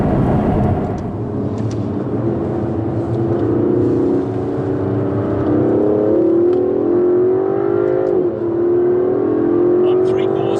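Aston Martin DB11 pulling at three-quarter throttle during a drive to an Aston Martin supercar meet, engine note climbing steadily in pitch with a brief dip near the end, heard from inside the cabin with a loud, continuous drone.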